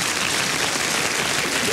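A studio audience gives a steady, dense round of applause, continuous and fairly loud from start to finish with no voices rising above it.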